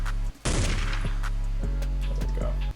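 Gunshot sample with a sharp broadband burst partway in, layered into a hard piano beat with deep 808 bass running underneath, piano chords continuing around it.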